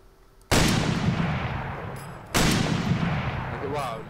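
Two loud blasts of gunfire in the video game Arma 3, each a sharp crack followed by a long, gradually fading rumble, the second arriving about two seconds after the first.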